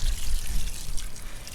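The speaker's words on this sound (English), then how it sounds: "Adding some more water halfway through the mixing." Water splashing and trickling as it is added to a concrete mix for homemade weights, a short close wet pour with low churning underneath.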